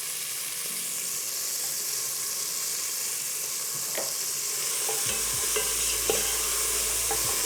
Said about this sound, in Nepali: मजाले अनियन गार्लिक फ्राई भयो